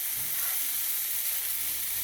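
Bok choy frying in oil in a pan, a steady, close sizzle with a constant hiss and no pauses.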